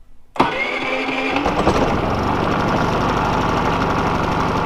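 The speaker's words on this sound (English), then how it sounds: "So we have our battery connected, so now let's hit the starter button." A Harbor Freight generator's engine is cranked by its electric starter, catches after about a second of cranking and settles into a loud, steady, close running drone, with no talk.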